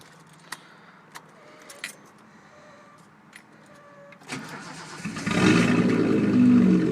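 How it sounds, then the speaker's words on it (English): A Datsun 280Z with a straight-pipe exhaust cranks and fires up after a few faint clicks and jangles, settling into a loud, rumbling idle that dominates the last two seconds close by. "It is straight pipe, so it has a nice good sound."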